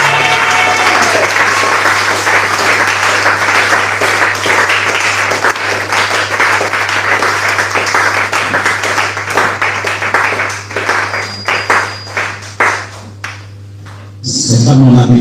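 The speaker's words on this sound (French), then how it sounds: "Est-ce que tu peux acclamer le Seigneur Jésus?" A church congregation claps and cheers loudly and steadily for the Lord Jesus during a sermon, with voices mixed into the applause and a steady low hum underneath. The applause thins out near the end.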